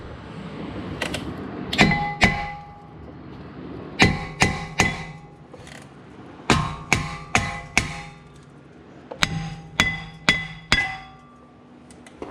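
A hammer strikes a rusted brake rotor on a Dodge Grand Caravan to break it loose, delivering sharp, ringing metallic clangs in quick bursts of several blows separated by short pauses.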